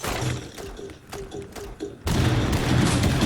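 Explosions and breaching blasts in the video game Rainbow Six Siege, sharp thuds and bursts in quick succession followed by a louder sustained rumble of destruction.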